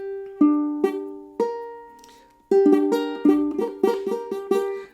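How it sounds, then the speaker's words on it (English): Ukulele chords played with too little pressure on the strings: a few slow plucked chords ringing out, then a faster run of strums with short, choked decays, close and alone without talk. "that basically just means that you're not putting enough pressure on the strings."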